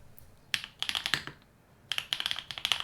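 Computer keyboard typing in quick, crisp bursts of clicks, a flurry at the start, a pause, then another run of keystrokes, close and clear with no talk.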